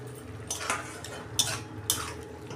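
A pan holding spiced oil has bitter gourd added and stirred. A low simmering hiss runs under it, broken by three or four louder scrapes and clinks of a spoon against the pan.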